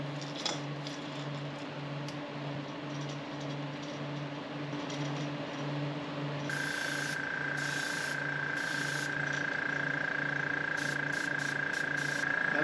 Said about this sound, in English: We're going to spray this down.